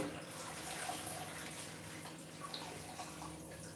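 Water sloshes steadily in a basin as managu greens are washed, a continuous close, soft splashing wash with no talking.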